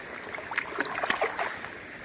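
A small mountain creek in Carpenter Canyon trickles and burbles nearby in summer, a steady gentle flow with light splashy droplets.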